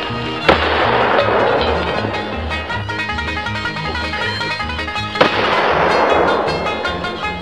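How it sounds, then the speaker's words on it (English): Rapid crackling Mexican firecrackers burst continuously for several seconds on concrete, with two sharp, loud bangs standing out near the start and again later, dense and close. "Mexican firecrackers, take two."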